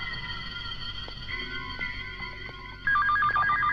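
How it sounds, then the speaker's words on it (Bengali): A telephone rings with a repeating electronic ringtone, a steady tonal pattern that grows louder near the end, heard alone without talk. "এই সময় আবার কার ফোন?"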